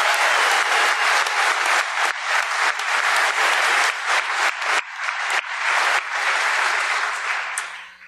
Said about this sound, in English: if we can give a rousing round of applause for their work